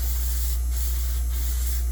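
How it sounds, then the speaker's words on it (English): A steady, even hiss of clear spray adhesive sprayed over a garbage can, running continuously for two seconds, close and fairly loud, with no voices. "Let me spray it over the garbage can here."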